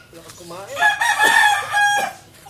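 A white kelso gamecock rooster crows nearby, a loud, drawn-out call with rising and falling tones, mixed with some clucking and a little background noise.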